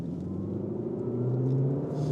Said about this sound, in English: Let's put the car back into Cupra mode, put our foot down